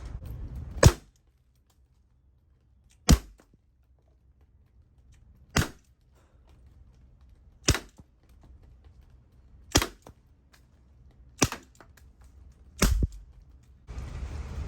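An FS Roscoe revolver replica firing rubber steel balls weighing about 2.5 grams: seven sharp, loud cracks spaced roughly two seconds apart, each dying away quickly into near silence.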